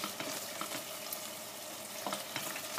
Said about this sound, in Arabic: خليها تتقلى